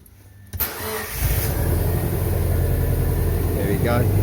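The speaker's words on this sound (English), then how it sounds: "Friday evening, he got the car running" A rare car, one of only nineteen ever built, cranks and fires up for its first start, catching after a brief starter whirr and settling into a loud, steady idle close by.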